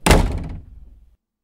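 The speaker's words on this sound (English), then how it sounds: "We hear my sister slam the door." A door slams shut: one loud, close, sharp thud with a brief booming resonance that dies away within a second.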